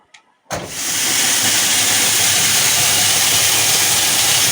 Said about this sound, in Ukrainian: Водичка вже майже кипить. Ну, не кипить, ну. Но... шипить добре.